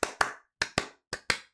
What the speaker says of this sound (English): With a clap between every word.